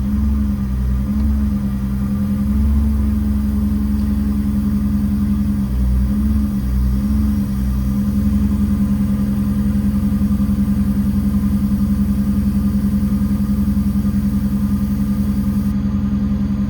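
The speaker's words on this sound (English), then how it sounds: "Now the generator portion of the EnPak operates when the EnPak is set to idle up." An EnPak generator and air compressor unit on a Ford F750 truck runs steadily, a loud close droning engine hum with slight rises and dips in pitch throughout and no voices.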